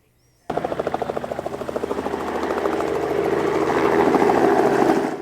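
A helicopter used by wildlife crews to capture mule deer in Cache Valley starts up abruptly, its rotor thumping in a fast steady rhythm as the loud engine whine builds and holds close by.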